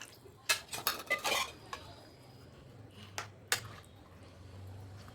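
Tamarind juice being stirred into Andhra-style fish curry (chepala pulusu): a quick cluster of clattering spoon clinks and scrapes against the pot, followed by a few sparse, quieter taps, with no talking.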